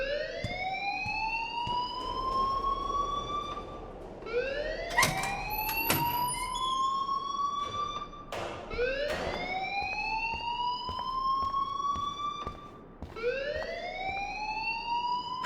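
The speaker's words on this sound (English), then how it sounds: "please turn off that alarm since that's your job" An electronic school alarm in the video game Life is Strange, heard as a loud, repeating rising whoop, each sweep lasting about three to four seconds, with faint background clatter and no speech.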